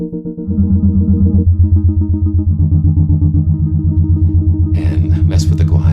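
An instrument whose string is excited by an electromagnet, run through a Bode frequency shifter, gives a loud, sustained tone with shifting stacked partials, and a noisy, breathy shimmer rises near the end.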